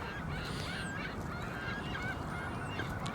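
Geese honk outdoors, two distinct rising calls about two seconds apart over a steady background of outdoor noise, moderately distant.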